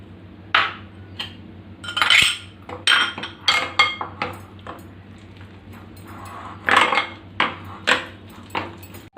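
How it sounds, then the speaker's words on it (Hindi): Spoon scrapes and clinks in a bowl as gram flour and yogurt are mixed, a series of irregular, close knocks and taps over a low steady hum, with no talking. "उसमें हम बेसन को डाल देंगे और दही को भी, दोनों को मिक्स कर लेते हैं"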